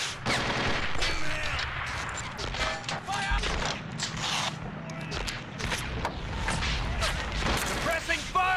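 Gunfire in the war game Men of War Assault Squad 2: dense overlapping bursts of rifle and machine-gun shots with scattered heavier impacts, a busy continuous battle soundscape with voices shouting over it.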